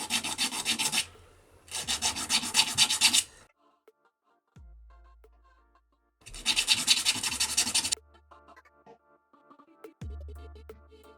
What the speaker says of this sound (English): which has 120 grit, which is perfect, just to give this a sanding over with.